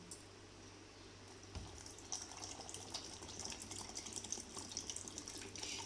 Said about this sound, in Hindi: और साथ ही इसमें जाएगा पानी